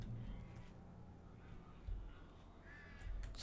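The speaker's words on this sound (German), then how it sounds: "So, dann hört man jetzt die Raben so gut." Ravens caw in the video game Alan Wake, a few faint harsh calls spaced apart over a low ambient game soundscape.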